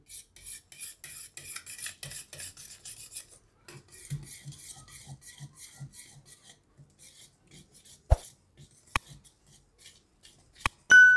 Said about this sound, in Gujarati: આ લોટ આપણે આમાં ચારી લીધો છે તો હવે આપણે એને મિક્સ કરી લેવું